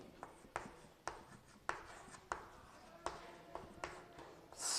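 Handwriting of a math equation during a class 10 math lesson, a faint series of quiet pen strokes and taps on paper, about nine distinct marks in an uneven rhythm, close and alone.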